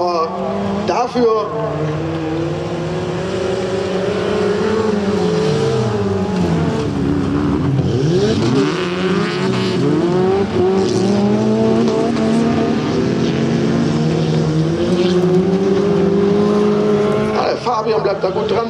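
A Honda Civic races around an autocross track, its engine droning and rising and falling through gear changes as it accelerates and corners, heard from a distance under continuous commentary.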